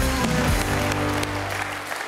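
Studio audience clapping on an Armenian stand-up comedy show, the applause steady and moderately loud for about two seconds with a faint voice briefly under it.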